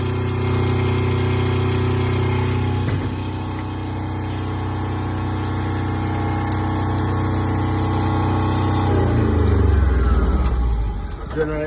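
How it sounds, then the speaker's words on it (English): Small diesel generator engine on a concrete mixer, only 8 hours of use, running at a steady close idle with a low even hum, then the engine note drops away near the end as it winds down. "Here's your little generator."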